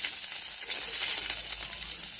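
Chopped garlic and cumin seeds sizzle in hot oil in a kadhai on a gas stove, a steady close crackling hiss that runs without a break.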